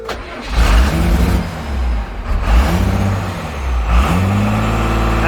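A Cummins 12-valve diesel truck engine is cranked and revved hard after a fuel pump and filter change, close and loud, its deep harmonic roar rising and dipping through several pedal surges.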